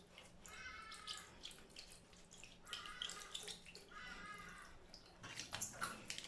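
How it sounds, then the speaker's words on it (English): Water running and dripping as makeup brushes are rinsed on a rinsing pad, heard close up in short repeated splashy bursts with quiet pauses between them. "water is running from up on the bristles to down"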